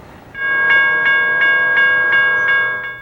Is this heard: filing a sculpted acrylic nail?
no